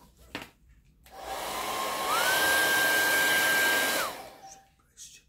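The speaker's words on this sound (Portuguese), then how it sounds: "Não fiquem tristes com o barulhinho que vai ter, que é o secador." A hair dryer blows on fresh paint on an MDF board, its fan whine rising with a pitch step and holding loud for about two seconds before cutting off, with quiet handling sounds before and after.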